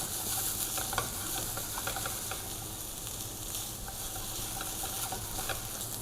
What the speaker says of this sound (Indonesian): Kita tumis sejenak sampai dia punya bawang bombay layu.